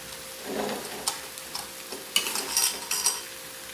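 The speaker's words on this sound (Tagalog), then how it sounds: "haluin na lang natin ito at luto na ating ginisang ampalaya" Filipino sautéed bitter gourd (ginisang ampalaya) being stirred in a pan: scraping, clattering strokes come in uneven bursts over a soft, steady sizzle, close and fairly quiet, with no talk.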